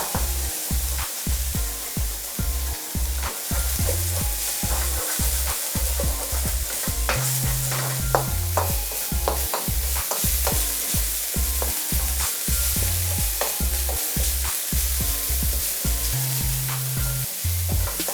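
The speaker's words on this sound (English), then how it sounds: "and then our chopped garlic and ginger. Stir." Chopped garlic and ginger sizzling in a hot pan while being stirred, a steady bright hiss overlaid with rhythmic low scraping strokes of the spoon, close and continuous, with no talk.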